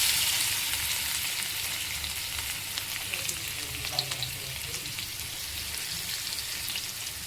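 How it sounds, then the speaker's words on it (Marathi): Mustard seeds crackling and popping in hot oil in a pan with crushed garlic and cumin, a dense continuous sizzle with scattered sharp pops, close and steady, no voices. "मोहरी अशी छानशी तडतडायला लागल्यानंतर त्याच्यामध्ये आपल्याला ठेचून घेतलेला लसूण आणि जिरे टाकून घ्यायचेत"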